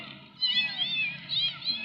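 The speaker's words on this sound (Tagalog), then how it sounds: "may maliit na kuting" A small kitten meows in thin, high cries, two or three short calls in quick succession, fairly close, near a beach under a bridge.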